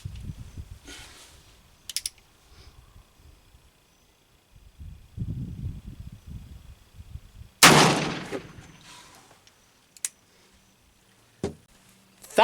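Black powder Pietta 1860 Army revolver fired with Triple Seven: a single sharp, loud blast near the middle, with metallic clicks and handling of the gun before and after, no talking.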